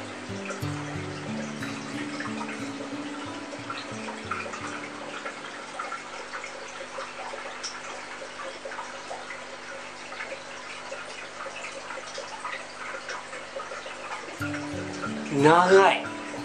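Water trickles and splashes steadily down a homemade twin-tower aquarium waterfall, a continuous close, soft flow with a brief louder splash near the end; no talk over it.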